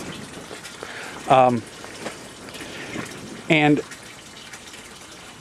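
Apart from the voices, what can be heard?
water pumped through an aquaponics system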